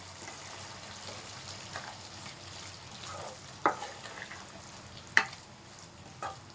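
Pumpkin halwa is stirred in a pan with quiet, steady scraping and a soft sizzle, broken by a few sharper clinks of the spoon against the pan near the end.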